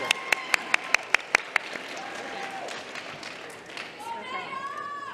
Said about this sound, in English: Round of applause again for our panel.